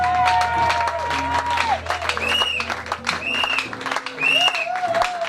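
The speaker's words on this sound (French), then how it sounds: "Acclamez avec le cri de joie, acclamez Jésus avec le cri de joie" A church congregation acclaiming Jesus with joyful cries and applause, continuous loud clapping and cheering blended with singing voices throughout.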